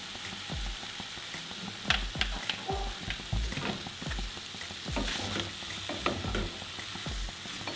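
Peas and mushrooms frying in sunflower oil while being stirred, a steady sizzle under rhythmic low scraping thuds of the spatula against the pan, close and continuous, with no talking.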